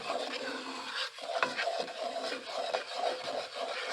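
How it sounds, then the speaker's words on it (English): Spoon scraping and stirring mac and cheese sauce in a cooking pot, a soft continuous rubbing sound with faint clinks, quiet and close, with no talking. "And I'm going to start stirring this."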